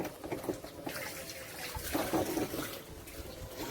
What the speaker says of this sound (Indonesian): Saya langsung buka dari air keran.